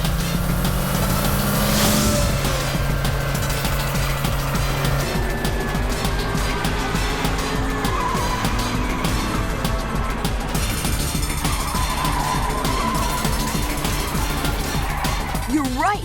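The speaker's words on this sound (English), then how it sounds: "You're zipping through corners way faster, and you're barely skidding." A race car engine whines and revs as the car zips quickly through corners, pitch rising and falling continuously, with barely any tyre skid. Other sounds and faint voices run underneath.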